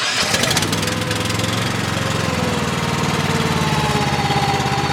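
A small engine with the choke set, just fitted with a new battery and fresh oil, cranks and catches at once, then settles into a loud, steady, slightly knocking idle close by.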